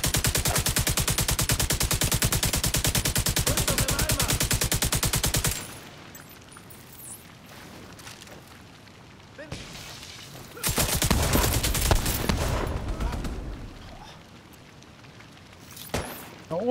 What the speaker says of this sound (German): Ist ein Geschütz.